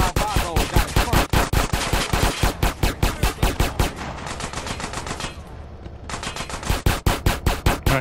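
Rapid automatic gunfire in GTA San Andreas, loud and close: dense, fast-repeating bursts of shots with a brief slower stretch in the middle before the sustained spraying resumes.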